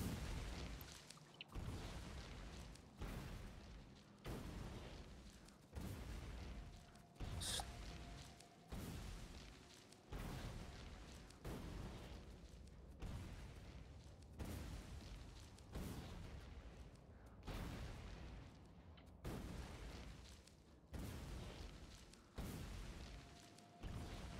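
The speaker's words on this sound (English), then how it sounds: "throw a grenade at yourself" Grenade blasts in the video game Factorio, a run of repeated booming bursts at a steady rhythm with dense game noise between them, loud and close throughout.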